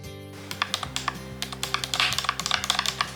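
A computer keyboard with distinctively shaped keys is typed on steadily, giving a quick, close run of crisp clacks over a soft low hum, with no voices.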